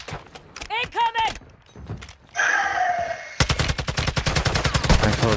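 Rapid bursts of automatic gunfire in Call of Duty DMZ, loud and close, first a brief rattle then a sustained stream of shots, following a short stretch of radio-style game voice.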